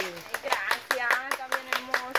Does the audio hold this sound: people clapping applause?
yes